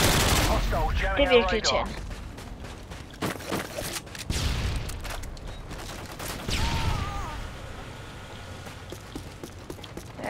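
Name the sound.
gunfire in the video game Call of Duty Modern Warfare 2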